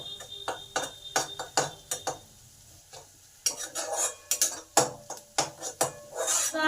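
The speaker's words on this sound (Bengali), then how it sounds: "এবার এই আদা লঙ্কাটাকে ভাজা ভাজা করে নিতে হবে।" Ginger and green chilli frying in a pan while a utensil stirs and scrapes against the metal in quick repeated clanks, over a soft continuous sizzle, with no talking.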